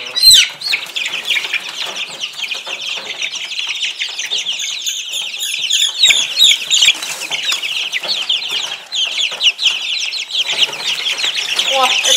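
Chickens in a poultry yard cluck and squawk steadily with bursts of wing flapping, a dense close chorus throughout, with people talking faintly in the background.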